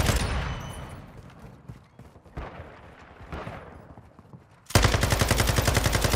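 Akimbo Desert Eagle pistols fire in Modern Warfare 2, first as scattered loud booming shots with decaying tails, then as a rapid, steady stream of closely spaced shots near the end.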